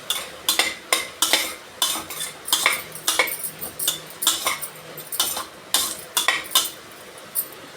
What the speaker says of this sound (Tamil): வதங்கின அப்புறம் பச்சை மிளகா, அதுவும் போட்டு